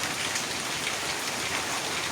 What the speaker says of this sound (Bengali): বৃষ্টি পড়তেইছে টিপ টিপ করে আকাশও মেঘলা আছে